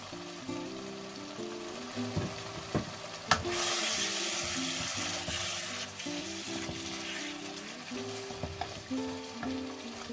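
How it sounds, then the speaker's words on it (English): Baby broccoli dropped into a hot pan and sizzling, a loud burst of frying that starts a few seconds in and holds steady, with stirring and clinks around it. "Now add baby broccoli or tender broccoli"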